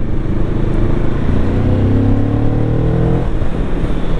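Moto Morini Calibro motorcycle engine ridden hard, a loud, close, steady roar with rising revs that climb and then drop off near the end, no voices over it.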